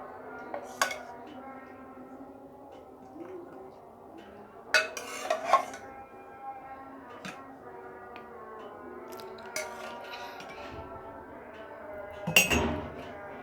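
Pots and cups clink and clatter in a home kitchen as freshly brewed dhaba-style kadak chai is poured from the pan into cups, with several sharp metallic and ceramic knocks spread over a background of quiet stirring sounds.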